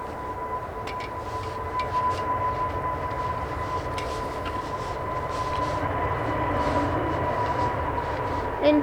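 Aircraft engines at Manchester Airport hold a steady, loud roar that builds slowly during the takeoff roll, with a constant hum underneath and no talk.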